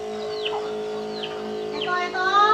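Chickens kept at a rural home and troubled by lice give several short rising clucks and calls, spaced out over a steady background hum, growing a little louder toward the end.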